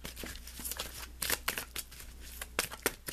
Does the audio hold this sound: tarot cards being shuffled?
yes